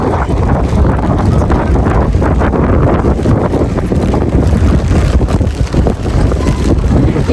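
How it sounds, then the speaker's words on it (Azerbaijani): Strong wind blowing outdoors in rain in an old city quarter, a loud, continuous buffeting rush battering the microphone, steady throughout with no clear voices. "Külək də başladı."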